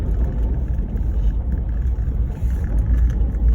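Vehicle rolling at about 27 to 30 km/h over an icy road at -3 degrees, a steady loud low rumble of engine and tyres on ice, continuous and close throughout.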